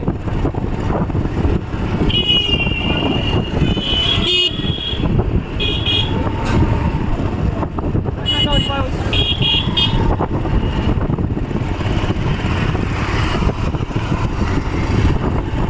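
Busy road traffic near the old Digha Mohona marine drive, with cars, buses and toto rickshaws rumbling along steadily while repeated short horn toots sound close by, and a voice talks over the noise.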